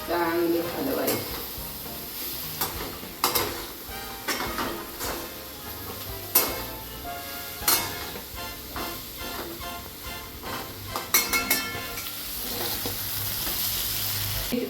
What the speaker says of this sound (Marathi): भेंडी चांगली त्यात परतून घ्यायची आणि मीठ चवीनुसार टाकायचं.